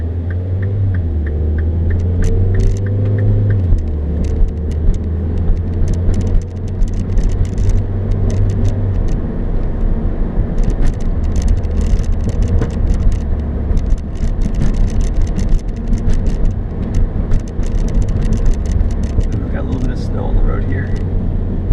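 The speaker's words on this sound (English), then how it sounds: "Over the pops, it's so good. Especially on a stock exhaust." A 2013 Mini Cooper S on a stock exhaust drones steadily while driving, with a run of sharp, crackling exhaust pops scattered through the middle and later stretch, heard close from inside the car.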